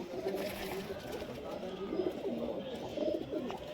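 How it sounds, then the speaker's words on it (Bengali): Racing pigeons in a loft coo in a steady, overlapping murmur of low rolling calls, nearby and fairly loud, while someone talks over the flock. "সব রেজাল্ট দেওয়া পায়রা দাদার এগুলো"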